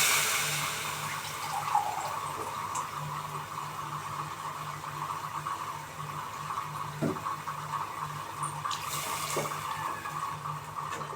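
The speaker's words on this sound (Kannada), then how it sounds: "ಎಣ್ಣೆ ಬಿಟ್ಕೊಂಡ ನಂತರ 1 ಗ್ಲಾಸ್ ಅಕ್ಕಿಗೆ 2 ಗ್ಲಾಸ್ ಅಷ್ಟು ನೀರು ಹಾಕತ್ತಾ ಇದ್ದೀನಿ." Water is poured from a glass into a pot of oil-fried masala for vegetable biryani, making a steady, close splashing and gurgling stream that lasts several seconds without talk.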